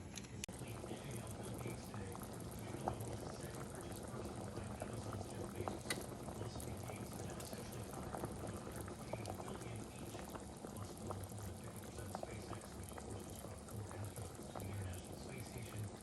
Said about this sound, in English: you're just gonna boil these for about 15 minutes until tender